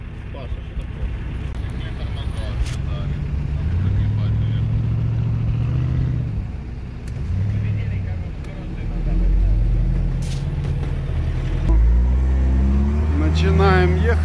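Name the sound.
UAZ Patriot off-road vehicle driving on trail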